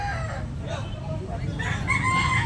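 A rooster crows at a Filipino gamecock keeper's yard, a drawn-out call over steady background noise with other birds faintly around it.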